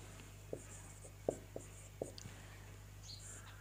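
Pen writing a Sanskrit sentence on paper, quiet close scratches and taps in an irregular rhythm of about five short strokes against a low steady hum, no talk.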